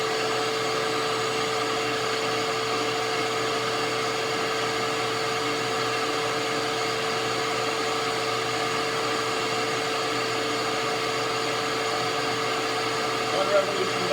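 A vinyl record cleaning machine runs steadily with a constant motor whine and whirring hum, close and unbroken throughout, with no talk.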